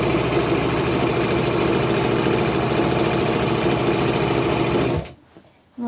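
A domestic sewing machine stitches stretched fabric while upcycling clothing into a tunic, its needle whirring in a loud, steady motorized drone for about five seconds before stopping abruptly, followed by brief quiet.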